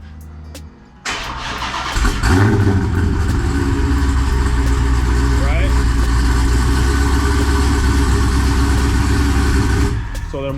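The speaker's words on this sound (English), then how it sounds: "I can still remote start the car." A Dodge Hellcat's engine cranks on remote start and catches, then settles into a steady, loud idle that runs on for several seconds; a voice speaks briefly over it.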